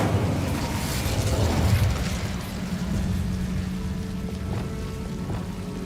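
An Incendio fire spell cast in the video game Hogwarts Legacy, a rushing roaring burst of flame that swells then fades into a steady crackling hiss under a low game backdrop.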